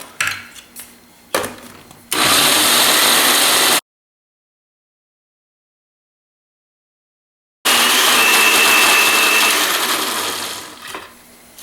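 A blender making basil walnut pesto roars loudly in two bursts separated by several seconds of silence, with some clattering before the first burst.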